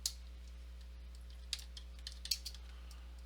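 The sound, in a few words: typing a folder name on a computer keyboard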